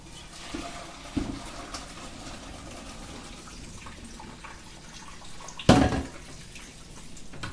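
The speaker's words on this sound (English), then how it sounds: "We're gonna turn on the water because we don't want hot water running through your pipes" A kitchen tap runs steadily into a sink, with a soft continuous water hiss and a louder splashing burst near the end as pasta is drained.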